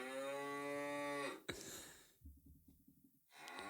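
A cow moo sound effect: one long, drawn-out low moo that ends in a breathy snort, followed by softer snuffling breaths.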